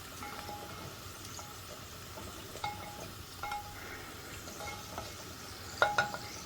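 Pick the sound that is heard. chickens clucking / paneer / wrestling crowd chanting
paneer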